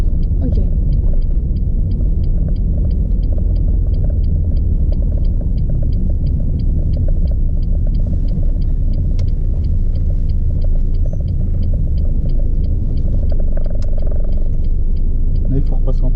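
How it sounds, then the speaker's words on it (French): A car rolling slowly in too high a gear gives a steady, loud low rumble with vibration throughout, with a voice talking over the engine noise. "Là, il faut repasser en première, elle vibre la voiture."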